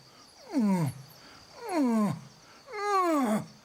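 Lions roar in the African bush, three long, deep roars spaced about a second apart, each swelling and then trailing off, moderately distant and alone against a quiet background.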